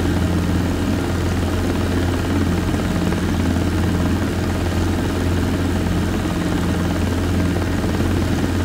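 Robinson R22 helicopter in flight, a steady, loud rotor and engine drone with a constant low thrum and broadband hiss, heard from inside the cabin without pause.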